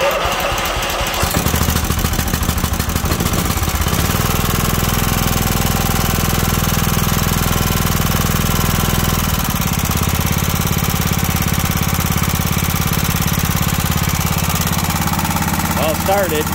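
A John Deere Sabre lawn tractor's small engine starts and settles into a loud, steady running rumble with a rough mechanical lifter knock, continuing up close throughout.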